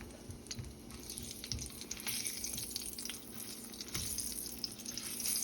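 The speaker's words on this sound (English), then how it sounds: "Put in a pan, put some onion, and kind of saute it." Onion sautéing in oil in a pan while making refried beans, a steady soft sizzle and frying hiss running throughout at moderate level, with faint stirring and clinks, no talk.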